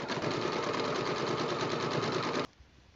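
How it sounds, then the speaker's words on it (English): A sewing machine stitches a quilt block with a fast, steady mechanical whir that starts at full speed, runs close and loud for about two and a half seconds, then stops abruptly. "So now what I can do is I can pop that into the sewing machine, starting in the down position with the needle."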